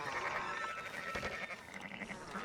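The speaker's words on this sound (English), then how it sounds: "Fine sheep." Sheep bleat in the video game Red Dead Redemption 2, a steady layered wavering of livestock voices filling the short span at moderate level with no one talking.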